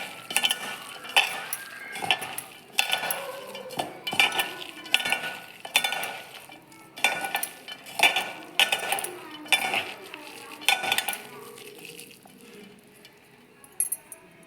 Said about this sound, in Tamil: இப்போ எல்லாத்தையும் நல்லா பிசையணும்